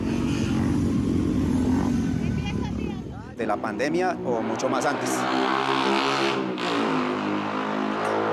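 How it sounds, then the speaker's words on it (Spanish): Motorcycles roar past in a Colombian neighbourhood street, one engine revving and fading before another passes close and loud, while someone speaks over the engine noise. "lo pueden escuchar como suenan estas motos"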